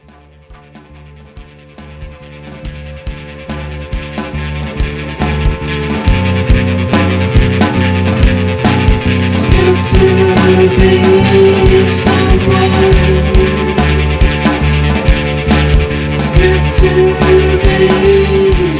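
An acoustic version of a song plays loud, with a steady strummed pulse that builds and thickens over the first several seconds and then holds dense and driving.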